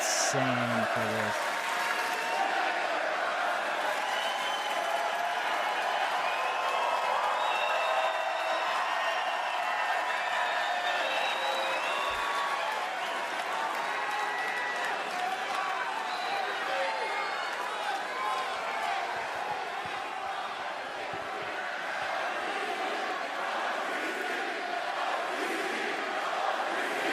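A packed WWE wrestling arena crowd cheers and claps continuously, loud and sustained, with a commentator's voice running over the roar.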